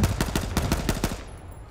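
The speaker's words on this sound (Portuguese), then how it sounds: "Ele tava trocando tiro com alguém" Rapid bursts of automatic gunfire in the video game H1Z1, a fast rhythmic string of shots that stops abruptly, leaving a faint high tone.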